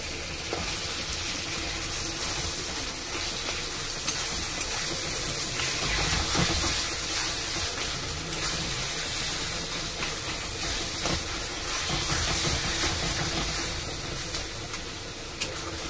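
Tomatoes frying with salt in a pan sizzle steadily as roasted eggplant goes in for begun bhorta; a loud, continuous close-up hiss and crackle runs throughout with no talking.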